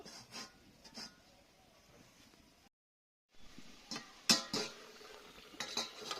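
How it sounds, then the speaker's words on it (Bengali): While potatoes boil in a kitchen pot, a metal lid clinks and clatters several times, with a soft scrape, a brief silent gap, then louder clanks near the end, all fairly close and quiet. "এবার ঢাকনা দিয়ে আলুটাকে সিদ্ধ করে নেব।"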